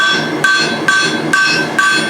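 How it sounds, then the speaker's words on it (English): Close, loud hammer blows on hot steel as a blacksmith forges the jaw of a pair of tongs, four steady ringing strikes in an even rhythm, with no voices. "Hammer this down."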